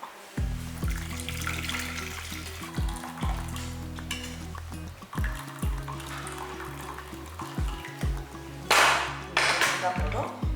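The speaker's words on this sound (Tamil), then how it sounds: "அதனால் தண்ணியை ஒரு பாத்திரத்தில் வடிச்சு எடுத்துடலாம்" Cooking water from boiled long beans (cowpeas) is poured off into a vessel, with intermittent watery splashing and trickling under a person talking, and a louder gush near the end.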